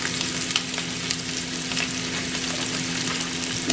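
Meatballs fry in a pan with a close, constant sizzle and scattered crackling pops, sustained at an even level throughout and free of any talk.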